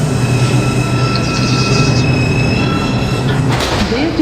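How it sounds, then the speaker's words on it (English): An NYC subway R142 5 train running toward Flatbush Avenue, a loud steady rumble with a tonal motor hum and a brief metallic squeal near the end, no voices. "This is a Brooklyn College Flatbush Avenue bound 5 train."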